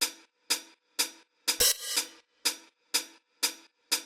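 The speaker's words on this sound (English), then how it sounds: "I got just like this closed hi-hat here, and then this this open hi-hat" Crisp closed hi-hat ticks repeat at an even, steady pulse, with one longer, washy open hi-hat ringing out partway through, alone and dry, lightly processed with a high-pass filter.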